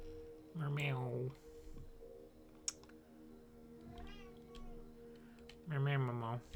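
Person imitating a cat, giving two drawn-out meows several seconds apart, with light keyboard typing and clicking in the background between them.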